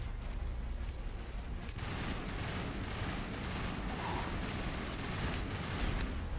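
Sustained shotgun fire and explosions during a Mass Effect firefight, loud and continuous for several seconds as dense broadband blasts with no quiet gaps.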